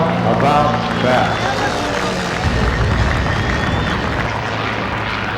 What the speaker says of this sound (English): It's powered by an Ames Industries micro-turbo about the size of a sewing machine